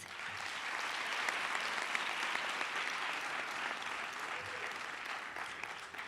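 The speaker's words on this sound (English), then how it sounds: "Give yourselves a hand of applause." Steady applause from a crowd at a school poster competition ceremony in Gauteng, a continuous wash of clapping that holds evenly for several seconds, somewhat distant.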